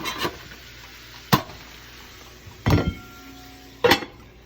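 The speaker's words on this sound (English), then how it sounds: "all I'm gonna do is put the lids on these 2 suckers" Metal lids set down on two skillets of cauliflower and crumbled ground pork, giving four separate clanks spaced about a second apart, each a short, bright knock with a ringing metallic tail.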